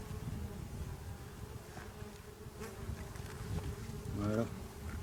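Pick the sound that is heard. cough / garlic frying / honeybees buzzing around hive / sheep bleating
honeybees buzzing around hive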